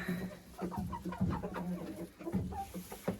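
Hens clucking in a backyard coop, several close, uneven clucks and short squawks scattered throughout over a faint steady hum, with no talking.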